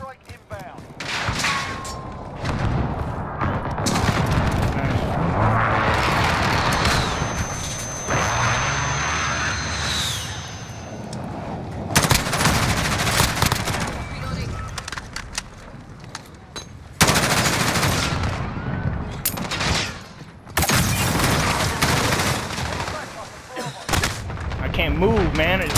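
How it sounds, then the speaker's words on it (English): Heavy game combat from a Call of Duty: Modern Warfare Domination match on the Crash map: near-continuous loud gunfire and booming blasts with sharp cutoffs between bursts, under occasional shouted talk. "Be advised, friendly precision airstrike inbound."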